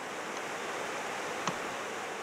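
Cattaraugus Creek flows below Scobey Dam in a steady broadband rush, a continuous even wash of moving water with one small click partway through and no voices.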